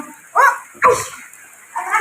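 A dog barks nearby, with two sharp, loud barks close together followed by a softer third one after a short pause.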